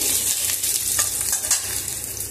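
Susni greens with potatoes frying in a pan, with green chillies added: a close, loud, crackling sizzle with quick stirring scrapes, continuous throughout and no voices.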